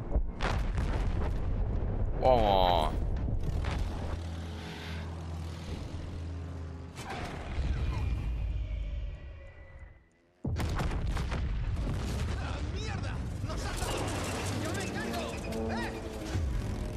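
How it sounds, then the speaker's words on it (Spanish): An explosion in Battlefield 1 during a PC campaign mission about flying aircraft: loud, dense rumbling blasts and game noise that cut out briefly, then resume with a sudden heavy burst. "A ver, que yo quiero ver la explosión de lejos."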